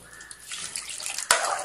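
Water splashes from a vessel into a rice mixture for cooking, a soft trickle that swells into a fuller rushing pour near the end.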